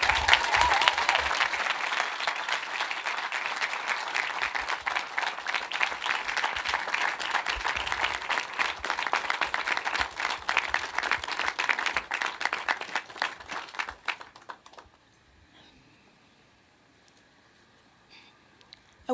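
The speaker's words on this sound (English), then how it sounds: "so if you'll please give her a round of applause." A crowd at a tower dedication ceremony claps for the mayor in a dense, sustained burst of applause lasting about fourteen seconds, then it cuts off sharply into near silence.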